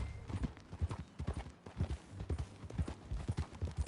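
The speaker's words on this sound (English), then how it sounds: "That a new horse?" Horse hooves clip-clop at a steady trotting rhythm in a PS4 video game, close and clear with no talking.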